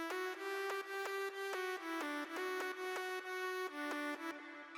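Squeaky synth lead, a weird nasal filler layer playing choppy repeated chord stabs in a steady rhythm, bright and buzzy with rich harmonics, alone without talking.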